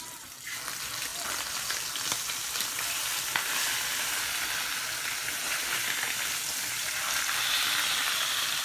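Curry-seasoned salmon pieces frying in a pan while being stirred, a continuous bright sizzle and crackle heard up close and fairly loud throughout, with no voices.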